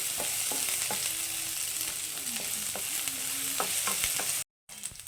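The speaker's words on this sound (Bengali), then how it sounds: "পেঁয়াজটা একটু হালকা ভেজে নেবো মানে এরকমভাবে তাই কাঁচা ভাতটা চলে যাবে এতটাই ভাজবো আমি পেঁয়াজটাকে" Onions fry lightly in a pan for an okra dish, with a steady loud sizzle and the scrape of stirring throughout. The sound cuts out briefly near the end, then returns.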